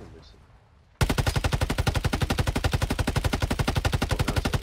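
Rapid automatic gunfire in a video game erupts after a second of quiet, a loud, steady machine-gun burst of evenly spaced shots running continuously to the end.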